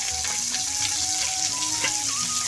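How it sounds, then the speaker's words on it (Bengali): Fish frying in oil in a wok, with potatoes and teasel gourd cooking nearby in a home kitchen; a steady, close sizzle with crackling pops runs throughout and no talk. "এখন আমি কড়াইয়ে মাছ ভাজা বসিয়েছি মাছ ভাজা হচ্ছে"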